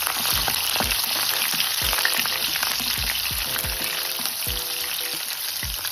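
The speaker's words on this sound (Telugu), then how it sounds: "ఇప్పుడు కడాయి పెట్టి ఆయిల్ వేసి పోపు గింజలు," Tempering seeds and chopped onions frying in hot oil in a kadai for a small dry fish curry, a loud continuous sizzle broken by repeated scraping stirs of a spatula against the pan, no voices.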